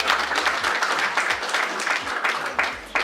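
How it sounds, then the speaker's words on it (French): Crowd applause at a community health centre gathering on breastfeeding, a dense wash of clapping that runs continuously, with some low rumbling noise underneath. "Applaudissez donc pour elle."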